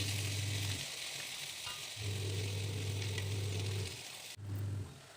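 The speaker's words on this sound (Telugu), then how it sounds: "తర్వాత ఒక 1/2 స్పూను అల్లం వెల్లుల్లి పేస్ట్ కూడా వేసి వేయించుకోవాలి." Onions with ginger garlic paste fry in a pan, a continuous close sizzle with an intermittent low hum from a kitchen appliance cycling on and off.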